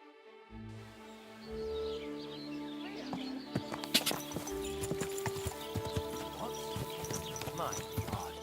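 Hooves clip-clop steadily at a walking pace over a busy game soundscape in Kingdom Come: Deliverance II, with tonal music and occasional clattering, and a voice speaking at times.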